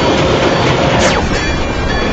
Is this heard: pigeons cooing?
no